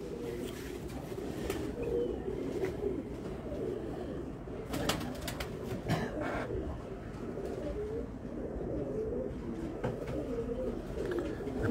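Soft, continuous cooing of Faisalabadi pigeons fills the scene, low murmuring calls overlapping steadily with a faint flutter or two.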